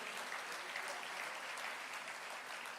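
A church congregation applauds with dense, even clapping that carries on steadily from start to finish, soft and somewhat distant.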